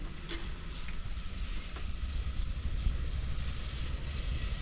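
Spices dropped a little at a time into a couple of ladles of hot oil sizzle steadily in a pan while Gujarati dahi malai dhokli is being cooked, a constant crackling hiss over a low rumble with no talking.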